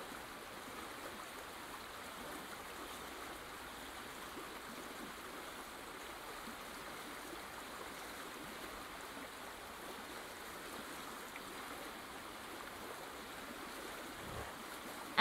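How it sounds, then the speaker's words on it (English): Acid water from the A New Beginning video game washes around rocks in a steady, soft rushing flow, like a quiet stream, continuing unbroken throughout. "Acid water washes around the rocks."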